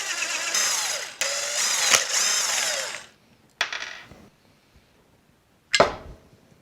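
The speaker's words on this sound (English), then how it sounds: "So I'm going to take off these 4 bolts" A power tool loosens the four intake bolts, running in a long loud buzzing burst of about three seconds, then two short sharp bursts, with quiet gaps between.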